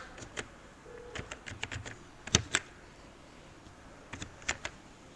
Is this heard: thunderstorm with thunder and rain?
no